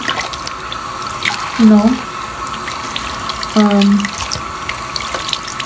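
Tap water runs steadily into a sink while a lace closure is washed after bleaching its knots, with two short humming surges from the tap and a person speaking briefly over it.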